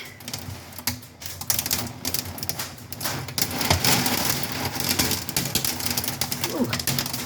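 Hail patters and clicks rapidly against a window during a storm in Fort Stockton, Texas, a dense, irregular tapping close by that grows heavier midway, with faint rain behind it.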